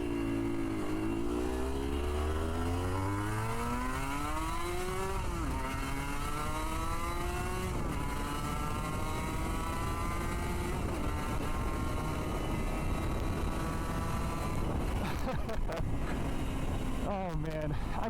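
1998 Aprilia RS250 two-stroke motorcycle on the Pacific Coast Highway, engine buzz climbing in pitch through several gear changes with brief drops between, heavy wind roar throughout and a voice talking over the ride.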